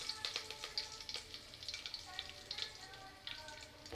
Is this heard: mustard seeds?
yes